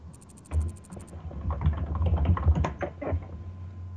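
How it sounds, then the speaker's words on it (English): Rapid keyboard typing, many close, crisp key clacks in an irregular burst, loud and near, with a short series of faint high electronic beeps at the start; no talking. "Typing."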